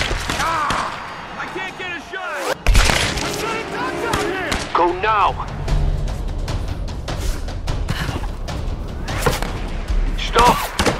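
Gunfire in the Tomb Raider video game: a few scattered, loud impacts and shot-like bangs, mixed with rumbling game sound and frequent speech from characters throughout.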